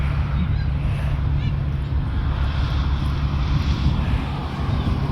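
A military airplane taking off or landing at Fort Bragg gives a loud, sustained engine drone with a low steady hum, its roar swelling slightly, while a person may be talking nearby.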